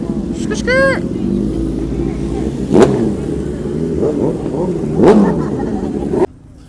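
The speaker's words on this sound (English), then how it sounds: "Smoking the tires." A Nissan Z roars through a tire-smoking burnout at a car meet, its engine revving hard and surging in two loud bursts over a steady rumble, with people talking and cheering around it before the sound cuts off abruptly.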